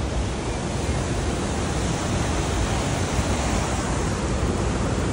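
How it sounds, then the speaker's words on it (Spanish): The Cascada de Fuego waterfall pours with a steady, dense roar of falling water, loud, close and unbroken for five seconds, with no voices. "la cascada de fuego"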